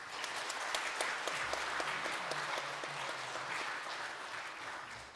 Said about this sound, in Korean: 다 같이 박수로 축하하겠습니다.